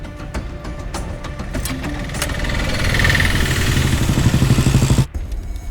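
A vehicle engine in a police chase scene starts and runs with a steady, rumbling drone at close range. It holds fairly even for several seconds, then cuts off abruptly near the end before resuming.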